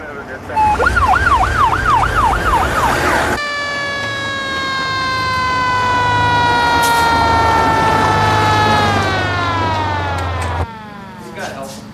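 A fire engine or ambulance siren wails loud and close, first a fast warbling yelp, then a long steady tone that slowly drops in pitch, over heavy engine rumble, as fire and paramedic crews respond to an emergency.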